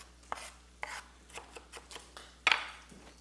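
A knife chops a small piece of onion on a cutting board, about a dozen crisp, uneven strikes close by, with one louder chop near the end and no voices.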